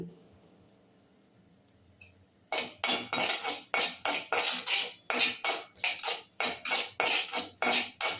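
Coriander, fenugreek and cumin seeds roasting in a pan are stirred after a quiet start, making a run of loud, rhythmic scraping and rattling strokes close up.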